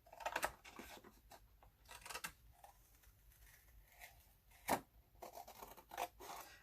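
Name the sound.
cutting away excess cover material around mini notebook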